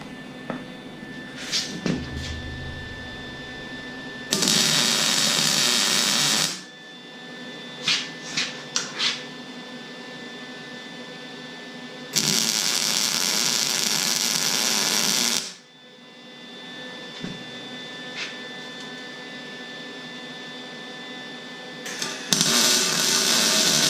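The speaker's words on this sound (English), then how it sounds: "so we're gonna get to welding." Arc welding on a bent SSQA quick-attach plate from a New Holland machine, with several loud, steady crackling bursts of a few seconds each, separated by quieter gaps that hold short clanks and taps.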